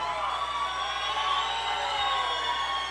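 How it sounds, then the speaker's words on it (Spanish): Audience at an evening tango performance cheering and whooping for a trombonist, a steady bed of crowd noise that stays even throughout. "Fuerte el aplauso para él."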